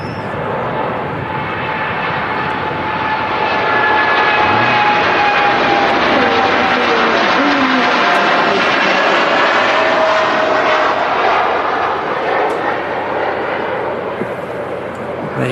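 A TUI Boeing Dreamliner departs Manchester Airport, its jet engines producing a loud, sustained broadband roar that swells and holds throughout, heard from nearby outdoors.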